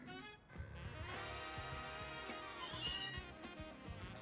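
Cat Pokémon in Pokémon Legends Z-A gives a run of bright, drawn-out meows over game music and effects, loud and close throughout.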